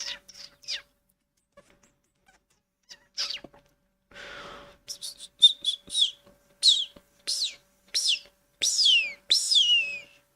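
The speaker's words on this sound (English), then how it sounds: "I am like making whistling noise." A person whistles a string of short, bright rising and falling notes, sparse at first and then quicker and louder, faint and close with no talking.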